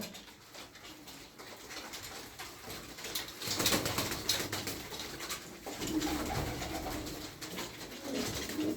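Several pigeons coo in a low, continuous murmur close by, with rustling and a few scattered bird noises in the background.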